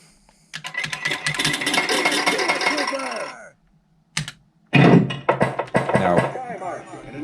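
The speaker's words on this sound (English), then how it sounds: "what you're hearing is my haptics, and it's also some of the pinball sounds that are manufactured by the game itself" Virtual Starship Troopers pinball table playing through bass shaker and exciter haptics: dense rattling clatter, buzzy bursts and sweeping effects, a short pause, then another loud clattering burst.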